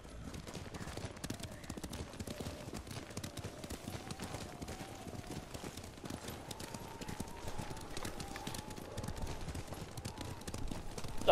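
Horses galloping in a video game, a steady rapid clip-clop of hooves running continuously at close range, with faint rumbling game ambience underneath and no talk.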